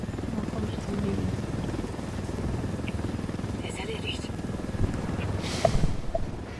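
A helicopter in the video game Ghost Recon Wildlands drones steadily with a low rotor thrum, a couple of faint clicks near the end, and a voice talking over it.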